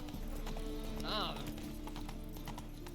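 Horse hooves clip-clop steadily in The Witcher 3 video game, a fast trotting rhythm under game music, with a brief whinny in the middle and a voice talking over it.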